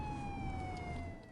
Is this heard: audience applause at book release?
no